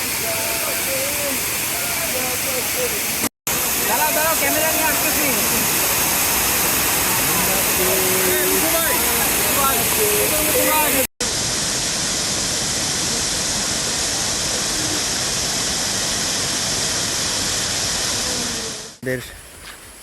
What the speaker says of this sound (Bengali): আমরা এইমাত্র নকাটা ঝর্ণায় এসে পৌঁছালাম